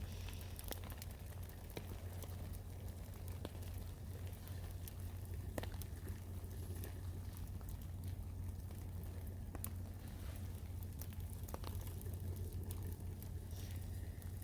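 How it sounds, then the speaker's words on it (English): Steady rain pattering on a military surplus poncho at a camp, a dense continuous patter with scattered sharper drop taps over a low constant hum. "Listen to that rain hitting up against this poncho."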